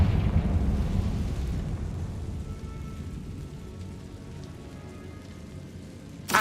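A Confringo spell blast in Hogwarts Legacy hits with a loud burst, then a dense, rain-like crackling rumble slowly fades. A brief sharp sound arrives at the very end.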